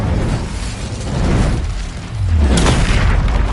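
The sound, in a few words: Incendio spell cast in Hogwarts Legacy video game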